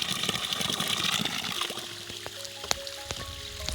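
Strong flow of water running near a durian and lansones planting site, a steady rushing wash that fades slightly, with a few faint clicks and thin tones near the end.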